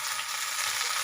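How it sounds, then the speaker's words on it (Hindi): Potatoes frying in a pan, a dense, steady sizzle and crackle of hot oil heard close up, with no talking. "2 से 3 मिनट इसको फ्राई कर लेंगे।"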